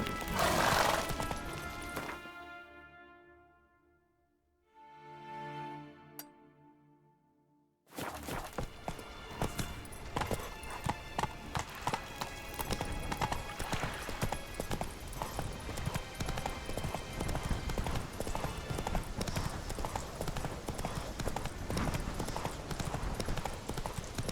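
Roach the horse from the video game The Witcher 3 neighs loudly near the start. Its hooves then pound in a quick, steady galloping clip-clop that carries on to the end, close and continuous, with no talk.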